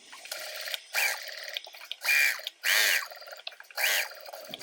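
Sewing machine stitching a fabric pocket down on three sides in short runs: four close bursts of fast mechanical whirring, each a half second or longer, with quieter clicks and pauses between them.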